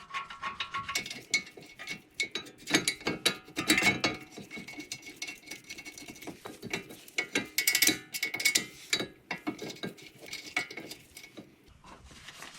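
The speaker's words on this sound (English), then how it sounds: "Probably should have the ratchet on the right way." Ratchet snugging the front brake caliper bracket bolts on a 2014-2018 Jeep Cherokee Latitude, close, crisp clicking in quick repeated bursts separated by short pauses, with occasional metallic clinks.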